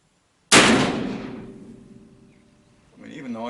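A single sharp gunshot from an 1858 Pietta black-powder revolver, loud and close, with a long decaying rumble afterward before a voice begins speaking at the end.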